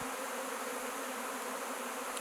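A wild honey bee swarm on a Sacha Inchi plant in Hawaii drones in a dense, continuous buzz, close and loud throughout, with no voices.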